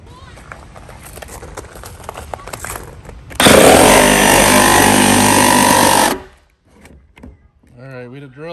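A loud power saw buzzes harshly for about three seconds, cutting through a plastic pond lid, then stops; quieter handling noises and a voice follow.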